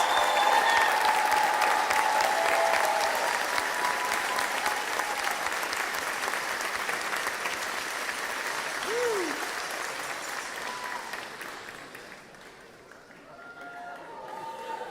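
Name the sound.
audience applause for graduates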